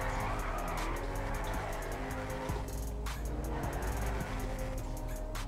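Car tires squealing and skidding during a drift in FiveM, the modded GTA V game, over a steady loud engine roar, with a sustained screech running through the whole stretch.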